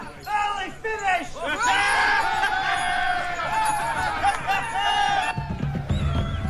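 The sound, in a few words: distant army crowd cheering, in a film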